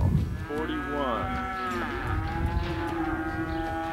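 A dairy cow lets out a loud, close, drawn-out moo that rises and then holds a long, steady low tone. The cow is a high-producing, excellent-classified cow of about 11 to 12 years on a dairy farm.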